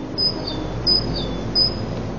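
Birds chirping at a bird shop, three short high tweets spaced about seven tenths of a second apart, over steady low street hum.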